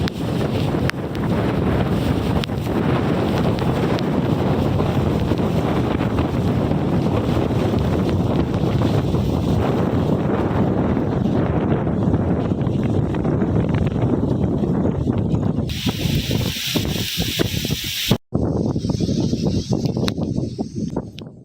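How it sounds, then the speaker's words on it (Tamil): Strong cyclone wind roars at Pichavaram near Cuddalore, a loud, unbroken buffeting rush hitting the microphone for the whole stretch, briefly cutting out near the end before resuming, with no voices. "கடலூர் மாவட்டம் பிச்சாவரம் சுற்றுலா மையத்தில் மழை குறைந்து காணப்பட்டாலும் பலத்த காற்று வீசி"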